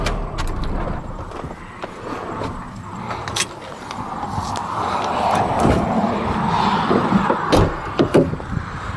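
A 1997 Dodge Ram 2500 Cummins diesel engine idles with a low rumble and rattles, then winds down among clunks and metallic knocks as it shuts off, up close.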